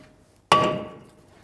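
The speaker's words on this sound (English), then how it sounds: "Take a hammer and you want to hit in these areas." A hammer strikes the rusty front hub bearing of a 2011-2015 Chevy Cruze once, producing a loud, close metallic clang with a ringing tone that decays over about a second.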